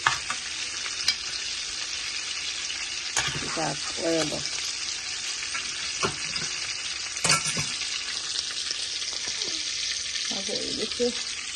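Onion fries in a pan with a loud, constant sizzle while a utensil stirs it, with occasional scrapes and faint murmuring voices in the background.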